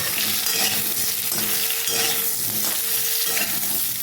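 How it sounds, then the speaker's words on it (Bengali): Ridge gourd frying in a pan, a loud continuous sizzle with rhythmic stirring scrapes repeating every second or so, close up with no talk. "এইভাবে ঝিঙেটা একটু ভেজে নেবে যাতে কাঁচা গন্ধটা চলে যায়"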